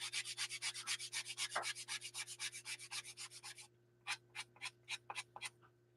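Close-up hand sanding: a fast, steady run of rasping back-and-forth strokes, then a few slower, spaced strokes before it stops.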